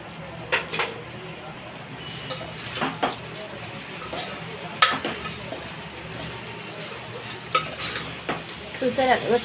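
Food is stirred in a hot pan, with a soft steady sizzle beneath intermittent spoon scrapes and clatters against the metal, growing busier toward the end.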